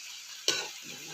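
Coriander leaves hit hot oil in a pan with a sudden loud sizzle that stays steady, then softens into a quieter crackling fry with no voices.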